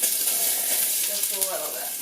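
Chopped onion sizzles in hot olive oil in a pan while cooking beef chili, a soft continuous hiss and crackle heard close with a few brief louder pops.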